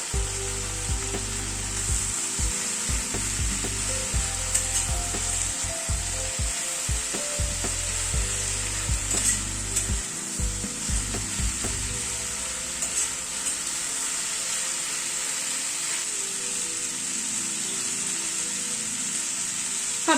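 Tomato curry for rotis sizzles steadily in a pan, with a spoon scraping and stirring in irregular clatters during the first half before the frying settles into a continuous hiss.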